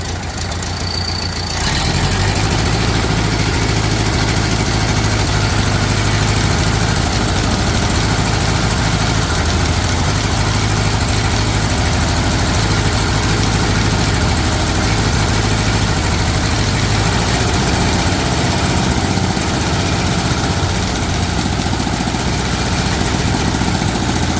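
The engine of a Model A Ford pickup with engine trouble, running loud and close: a steady, rumbling idle that starts abruptly and holds at a fairly even level throughout, with no voices.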